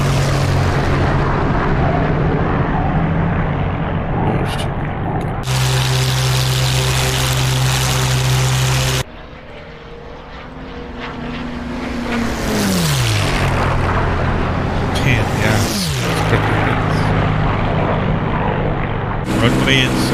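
A P-51 Mustang fighter's propeller engine drones steadily in the DCS flight simulator, its pitch rising and falling as the throttle changes, loud and continuous throughout.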